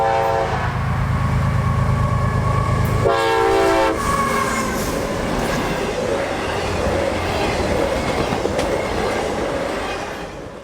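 Nightly stack freight train IO44 out of Tampa passes at track speed through a Florida town, opening with loud, sustained horn blasts and then a heavy rolling rumble of cars going by.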